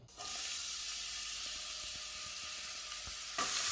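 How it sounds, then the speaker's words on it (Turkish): Onions frying in hot oil in a pot for a Turkish pepper kavurma, a loud, steady sizzle with occasional stirring clicks that swells briefly near the end. "Sıvıya kızdıktan sonra soğan ekleyelim."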